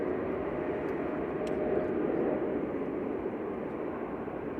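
A steady, moderately loud jet roar from an airliner departing Manchester Airport for Bulgaria, a broad even rumble that stays constant for the whole stretch with no talk over it.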